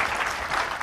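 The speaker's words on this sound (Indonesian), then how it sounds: "Tepuk tangan buat Temi." Brief burst of audience applause at a casual gathering, steady dense clapping filling the short moment with no pause.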